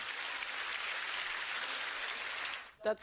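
Applause from the crowd at Angela Merkel's Harvard commencement speech, a fairly distant wash of clapping that holds steady, then cuts off just before a voice begins.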